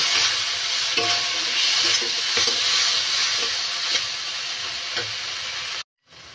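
Masala with cumin and turmeric powder fries for a Bengali prawn malai curry, a loud continuous sizzle with stirring scrapes, ending in a sudden brief cut to silence.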